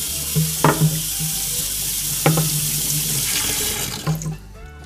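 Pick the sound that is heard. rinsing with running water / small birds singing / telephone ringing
rinsing with running water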